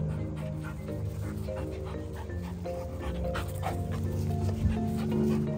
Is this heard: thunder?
no